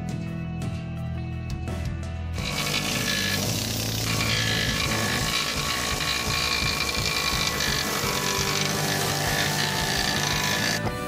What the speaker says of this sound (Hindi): कोने खोपचे में ये चिपिंग मशीन यूज करते हैं।